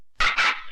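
A dog gives a single short bark in two quick bursts, close and loud, with no voices around it.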